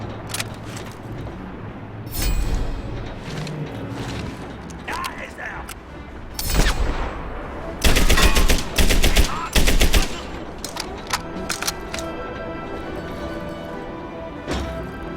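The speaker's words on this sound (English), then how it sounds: "And we are welcomed with enemy snipers as soon as we land." Enemy gunfire on landing in Medal of Honor Airborne: loud bursts of rapid automatic fire clustered in the middle, over a busy battlefield bed with machinery and voices.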